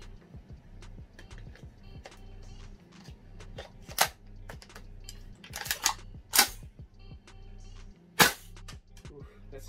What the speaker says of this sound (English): I'm gonna shoot it and see how it shoots actually.